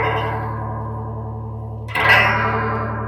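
Electric guitar played through a 1980s Arion Chorus SCH-1 chorus pedal, a sustained bright, chimey, shimmering chord ringing out, then a fresh strum about two-thirds of the way in, loud and close with no voices.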